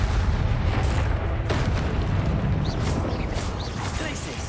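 Explosive Confringo spell blasts in Hogwarts Legacy, a deep booming rumble with bursts of crackling debris, heavy low-end impact sustained across the moment, with no talking over it.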